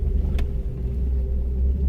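A four-wheel drive vehicle crawls over decent-sized rocks on a trail to Bill Moore Lake, a loud, steady low engine rumble up close with a brief clunk early on and no talking.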